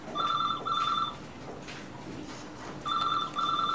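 A telephone bell rings in two short double bursts, one at the start and another near the end, with a quiet room and faint background noise between.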